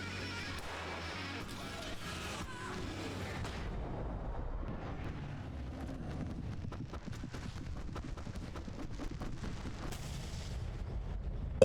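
Flashbang grenades going off in the Alan Wake Remastered video game, a run of sharp booming bursts and crashes layered over steady low rumble and game noise, loud throughout with no talk.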